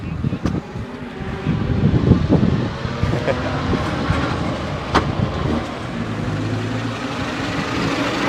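Pre-1960s vintage vehicles at a classic car run pull away one after another, engines rumbling at mid distance under steady wind noise, with bystanders chatting through it.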